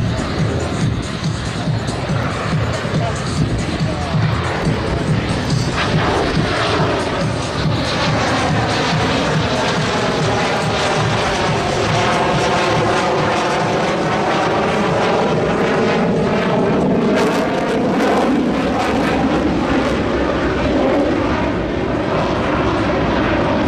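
An F-16 Viper fighter jet performs a demonstration flight at the New Orleans air show, its loud continuous engine roar sweeping past with a strong Doppler-like shifting whine and faint crowd noise beneath.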